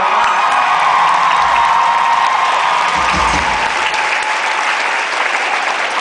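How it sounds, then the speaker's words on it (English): A concert audience at a show breaks into loud, dense, sustained applause that stays full and even throughout, with faint cheers mixed into the crowd noise. "Give them a big round of applause"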